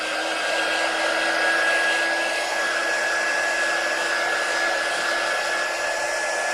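A quick dry heat tool blows steadily over paint on an eraser board, a continuous loud whooshing hiss with a faint whine that holds level from start to finish.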